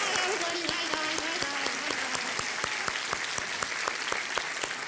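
Sustained studio-audience applause on a Kaun Banega Crorepati game-show set, steady dense clapping across five seconds, with a faint voice and a rising musical tone underneath early on.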